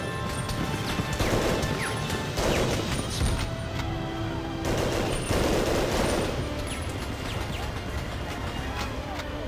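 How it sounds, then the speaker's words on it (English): Automatic weapon fire in the video game Medal of Honor Underground, loud chattering bursts of shots with crashing impacts, repeating in waves over several seconds amid busy battle noise. "I hate that automatic weapon"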